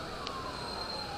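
Fire truck sirens wail steadily in the distance near a mall fire in Taguig, a continuous tone under street noise, ending in a brief sharp knock.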